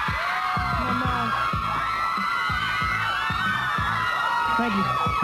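Studio audience applause with cheering and whoops for Nick Carter and his mother Jane Carter on a 1998 talk show, a dense steady roar of clapping mixed with voices and shouts throughout.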